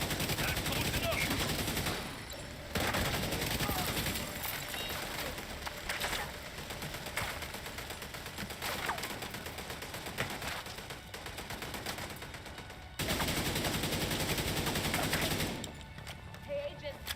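A deployed turret fires in The Division 2: sustained bursts of rapid automatic gunfire that run for seconds at a time, broken by brief pauses, loud and close, with a voice in the mix.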